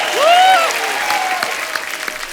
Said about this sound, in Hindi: तो चलिए आप सबकी जोरदार तालियों के बीच मंच पे बुलाते हैं